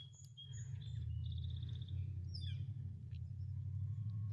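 Scattered bird chirps and short calls on a farm on a snowy day, over a steady low rumble, fairly faint and distant, with no talking.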